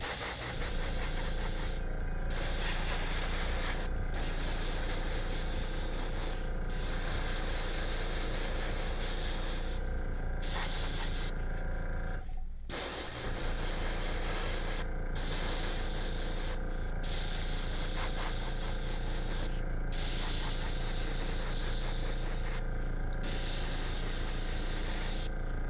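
Spray paint applied as a first coat to a 3D-printed D.Va costume project, a loud close continuous hiss broken by short pauses between passes.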